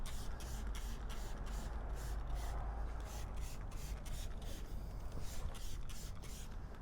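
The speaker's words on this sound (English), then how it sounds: "they just kind of spray it on everywhere" Shine Supply Clean and Shine dressing sprayed around a car's engine bay, a run of short repeated hissing spritzes at close range over a steady background rush.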